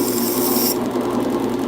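A knife blade being rubbed with a Scotch-Brite pad, a steady close abrasive rasping that carries on without a break and brightens in tone partway through.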